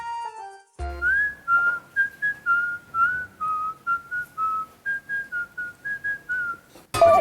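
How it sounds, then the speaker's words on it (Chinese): A person whistles a steady, wavering tune in short repeated phrases, clear and close, with no talking over it. "我会吹口哨。"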